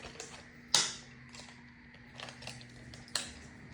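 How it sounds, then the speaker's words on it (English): Icon side cutters snip plastic security pieces off a Craftsman V Series pliers wrench: two sharp, close clicks about two seconds apart over quiet room hiss, with light handling rattles between. "Using the Icon side cutters off camera real quickly. Just getting the security plastic pieces off."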